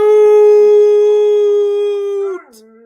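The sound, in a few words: dogs howling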